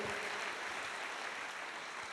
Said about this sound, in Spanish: Dele un aplauso a Jesucristo.